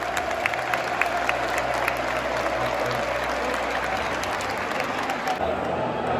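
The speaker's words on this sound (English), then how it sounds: "both sets of fans singing Champions of Europe, you know what we are. Then followed by some applause" Manchester City and West Ham fans in a stadium sing a loud chant together and then applaud, filling the space with a dense, distant roar and steady clapping.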